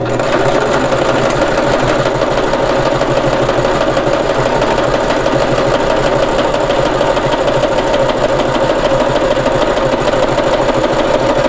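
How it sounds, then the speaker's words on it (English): Sewing machine stitching a seam on a fabric award sash, a loud, continuous rapid mechanical whirring and chattering held at an even level throughout, close up and with no voices over it. "So we're gonna sew, it's probably gonna be loud."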